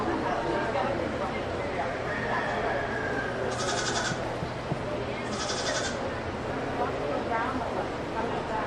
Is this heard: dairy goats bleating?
yes